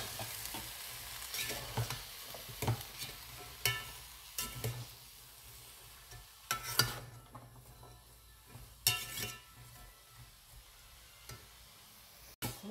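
Chayote hits a hot pan and fries with a soft sizzle, stirred at intervals so a spatula scrapes and clatters against the metal, all close and fairly quiet, while an escabeche of tangigue fish cooks.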